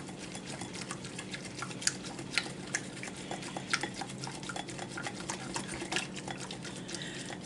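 Venison meatball mixture with brown sugar and nutmeg being stirred in a cast iron pan, giving a steady scraping, clinking churn with scattered sharper utensil knocks, close and moderately loud, without talk.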